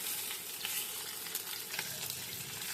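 Two pieces of tangra fish frying in hot oil in a pan until golden, giving a steady dense sizzle with crackling pops throughout, close and fairly loud, with no talk.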